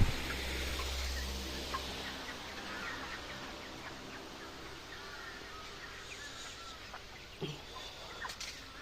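Chickens in a warm poultry shed give faint, scattered clucks over a low, steady hum from a running fan, fairly quiet overall with no talk.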